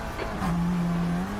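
A tire squeals as the right rear wheel locks under braking in an Assetto Corsa TCR sim race, a steady tonal screech lasting under a second over the droning race-car engine.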